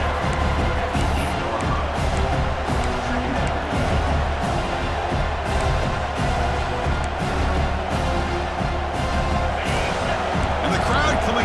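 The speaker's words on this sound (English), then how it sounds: "And the crowd coming to life here" A stadium crowd roars in EA Sports College Football 26, a dense, steady wall of cheering that holds at the same level throughout with no break.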